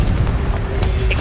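A Confringo spell explosion in Hogwarts Legacy lands as a single loud, close, booming blast with a rumbling tail.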